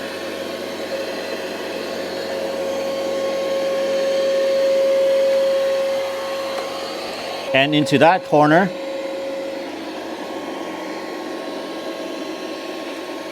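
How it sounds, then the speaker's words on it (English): A steady, loud motor whir with a high suction hiss from an ECOVACS T80 Omni robot vacuum at maximum suction runs throughout; a person speaks briefly partway through. "I'm going to start it on vacuum mode and maximum suction power."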